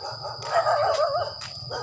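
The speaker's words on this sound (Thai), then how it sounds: "มาเห่าหอน" Dogs bark and howl nearby, a wavering drawn-out howl rising between short barks over a steady faint background hum.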